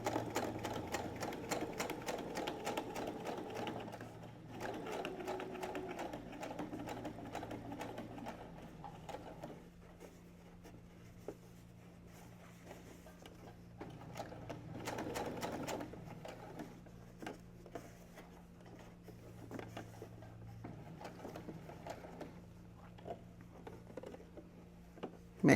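A sewing machine stitches across a folded fabric pouch in close, fast, even mechanical whirring runs with short stops between passes, under a low steady hum.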